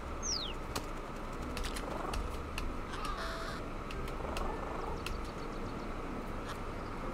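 Crows caw repeatedly in a cat video game, with flapping wings and scattered calls over a steady rumbling ambient bed, moderately near.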